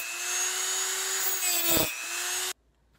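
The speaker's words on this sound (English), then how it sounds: "I've got the Dremel set up with a diamond encrusted grinding bit" A Dremel with a diamond-encrusted grinding bit whines steadily at high pitch while cleaning up a pendant, dips briefly as it bites into the metal, then cuts off abruptly.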